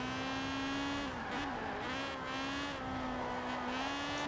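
A lightweight, low-powered car racing downhill on a touge mountain road in Forza Horizon 4, its engine holding a steady high drone with small dips in pitch between corners, plus faint tire scrubbing, close and continuous with no talk.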